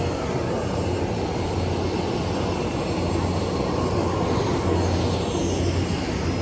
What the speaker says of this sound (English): This is the airport tarmac ng Philippine Airlines here in Davao.